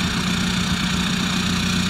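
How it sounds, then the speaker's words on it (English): A 2004 Volkswagen Jetta TDI wagon's diesel engine idles with its muffler deleted, a steady, even rumble with a low throb that holds constant and fairly close throughout. "The car's actually surprisingly quiet for a deleted exhaust though."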